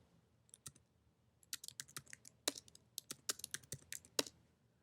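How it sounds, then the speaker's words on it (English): Password being typed on a computer keyboard for a Raspberry Pi setup, a quiet burst of quick, irregular key clicks with short pauses, close and alone. "type in the same password twice"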